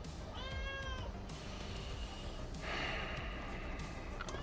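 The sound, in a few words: cat meowing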